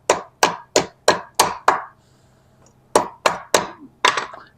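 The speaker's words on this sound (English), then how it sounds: "use the ball peen side of a small hammer." Ball peen side of a small hammer shaping the concave head of a hand-forged iron spoon on a wooden stump in a historic blacksmith shop: six sharp, ringing blows in a steady rhythm, a short pause, then four more strikes, close and loud.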